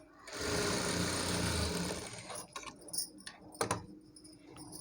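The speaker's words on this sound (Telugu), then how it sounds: "నేను ఇలా రైట్ సైడే పెట్టేసి స్టిచ్ చేసేస్తున్నాను" A sewing machine runs in a fast steady whir for about two seconds while stitching saree fabric into a long frock, then stops, followed by scattered clicks and fabric handling nearby.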